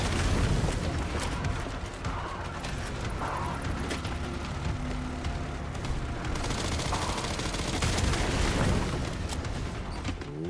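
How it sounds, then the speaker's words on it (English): Automatic pistol fire in Resident Evil 9: Requiem, rapid sustained bursts of shots with mechanical clatter and booming impacts, loud and dense for the whole stretch, nearly free of talk. "we got our unlimited ammo, like automated pistol going on"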